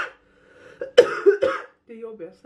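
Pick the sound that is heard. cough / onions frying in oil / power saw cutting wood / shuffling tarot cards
cough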